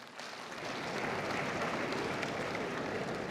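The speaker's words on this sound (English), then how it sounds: "Massive round of applause for that one." A distant, muffled wash of crowd applause swells in and holds steady at a live wrestling interview event with Christian Cage, faint and even with no distinct individual claps.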